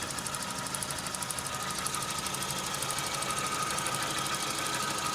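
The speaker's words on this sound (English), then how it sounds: "So now the idle is idling." A Suzuki Samurai engine idles with its coolant temperature stable, giving a steady, even, close-up rumble with a fast regular ticking pulse and no talk.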